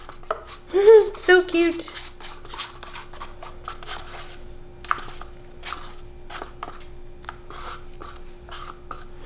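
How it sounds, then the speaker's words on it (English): A mini spatula scraping charcoal out of a small cup during soap making, light scattered scraping and tapping clicks, close and quiet, after a brief spoken remark and under a faint steady hum. "I have this fantastic mini spatula to scrape out this little cup"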